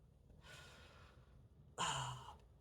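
Deep, slow breaths drawn and released during a prenatal relaxation exercise, first a soft airy inhale, then after a pause a louder, fuller exhale, close and alone without talk.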